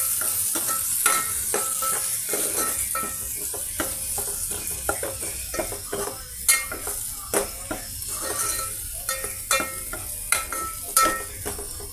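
A ginger garlic paste mixture is stirred in a pan over a continuous sizzle. A spoon scrapes and taps the metal in irregular clinks, close and without talking.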